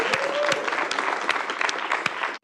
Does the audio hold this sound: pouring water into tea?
no